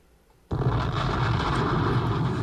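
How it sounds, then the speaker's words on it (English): A bomb-drop sound effect bursts in after half a second of near silence, a loud sustained explosive roar that stays heavy and rumbling to the end. "let me drop a bomb"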